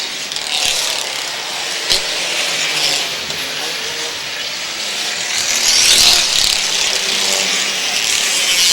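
Race cars lap a track as a continuous roar from several engines, swelling and fading as they pass at a distance, with no talk over it.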